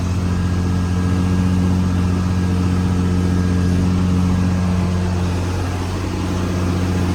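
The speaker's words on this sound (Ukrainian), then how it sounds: "Чуєш, які паше мотор?" A farm vehicle's engine runs steadily and loudly right up close, a continuous droning rumble at constant revs with no pauses, heard alone while wheat is being checked for moisture before harvest and discing follows the barley.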